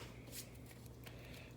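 Cards for the board game Codeword Cromwell get a brief hand shuffle, a few soft riffling bursts close by, quiet over a steady low hum with no speech.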